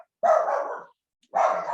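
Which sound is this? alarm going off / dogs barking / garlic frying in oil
dogs barking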